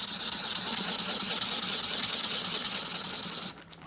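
Cured DIY marble-look resin being sanded, a steady, loud abrasive rasping with a fast rhythmic pulse that runs close to the mic for over three seconds before easing off at the end.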